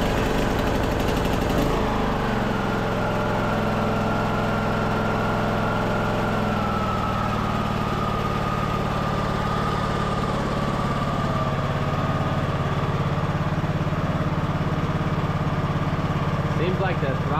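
A Poulan riding lawn mower engine runs close and loud at a steady idle, a constant rumbling drone with no break.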